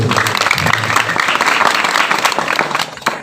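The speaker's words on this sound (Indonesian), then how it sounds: "Oke, tepuk tangan dulu." Sermon audience breaking into applause, a dense burst of many hands clapping at close range that fades slightly toward the end, with no talk over it.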